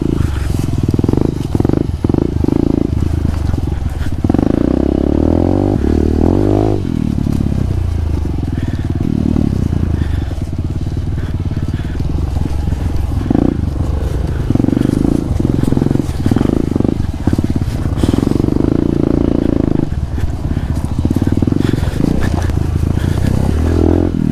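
Off-road vehicle grinding along a tight trail in first gear, a loud rough engine drone with clattering and bumps throughout, close up, and no talk.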